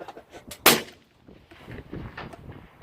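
A single sharp rifle shot cracks out at a precision shooting range, loud and close, followed by quiet outdoor ambience and low murmuring voices.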